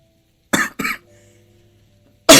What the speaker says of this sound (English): I'm fucking coughing.